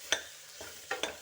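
Meal maker curry stirred in a pan, a few quick spoon scrapes and knocks against the pan over a faint background; no talk.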